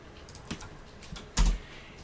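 Keys clack on a computer keyboard as a short command is typed, a few scattered taps followed by one louder press near the end, close and alone.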